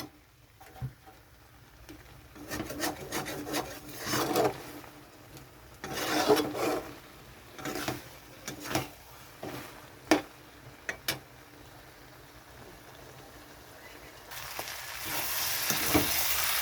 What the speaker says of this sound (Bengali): এখানে একটু গরম জল দিয়ে দিচ্ছি আরও একটু কষানোর জন্য।